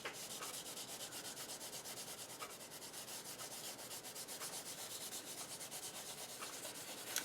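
Back of an ink applicator rubbing blue, green and silver metallic flakes onto a glue-covered surface, a steady scratchy brushing that repeats in quick rhythmic strokes, close and fairly quiet with no talking.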